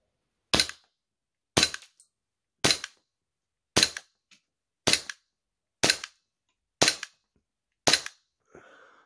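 Airsoft Glock pistol fired about a meter away at mesh goggles, eight sharp snapping shots at roughly one-second intervals with silence between, followed by a faint rattle.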